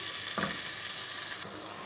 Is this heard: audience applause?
no